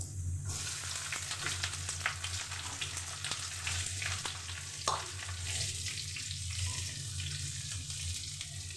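Onions added to hot oil with potatoes already fried red, a steady close hiss of frying with faint scraping stirs over a low background hum, no speech.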